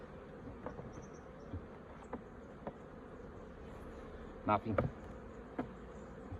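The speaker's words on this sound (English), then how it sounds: "the bees are covering these last 4 or 5 frames" Honey bees buzz around an open beehive as it is packed down, a soft continuous hum with occasional louder passes near the microphone and light clicks of frames being handled; a voice speaks briefly.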